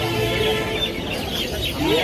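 Chickens, including silkies, along with ducklings and kalim birds at a busy poultry market, clucking and calling steadily over a noisy crowd backdrop, fairly loud and close.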